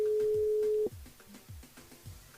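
A steady electronic telephone tone sounds during a French-language call-in segment on a Réunion radio morning show, then cuts off abruptly, leaving rhythmic low music thumps underneath.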